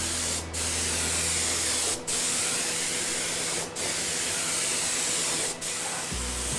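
Spray gun laying base coat onto a car part during a BA Fairmont Ghia 5.4 V8 restoration, a loud continuous hissing spray broken by four brief pauses, with a low hum underneath.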